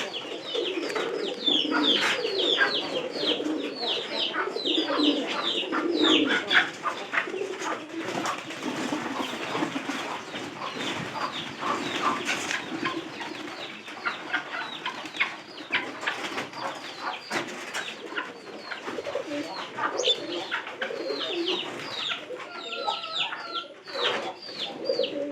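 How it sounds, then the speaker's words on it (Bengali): A flock of pigeons at their loft, being coaxed to learn their home, gives a constant dense chorus of cooing and chirping calls, moderately loud and unbroken for the whole stretch with no talk. "আমরা কবুতর সবগুলা কিন্তু বাইরে।"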